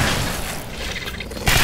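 Explosions in Alien Swarm, a dense loud booming roar with gunfire throughout, ending in a sudden sharper blast.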